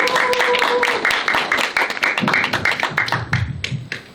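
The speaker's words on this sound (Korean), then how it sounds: "다시 한번 박수 부탁드리겠습니다" Audience clapping at a local culture conference after a presentation, with sharp, close hand claps repeating rapidly and unevenly, then thinning out toward the end; a voice is heard briefly at the start.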